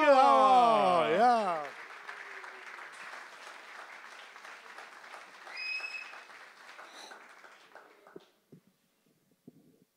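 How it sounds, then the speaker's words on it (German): Audience at a poetry slam in Wuppertal bursts into sustained applause right after a raised voice, the clapping dense at first and then thinning into scattered claps and quiet. "Wir begrüßen ihn mit einem riesengroßen Applaus."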